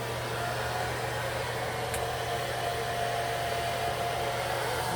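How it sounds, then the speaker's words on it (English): Hair blow dryer running on its low setting while a lace wig is installed, a steady, even whooshing hum held close and constant throughout, with no talking. "in with the blow dryer, and it's on low."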